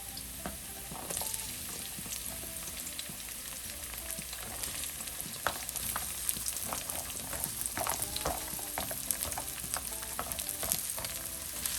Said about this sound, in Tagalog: Haluin natin mabuti ang ating sibuyas at bawang.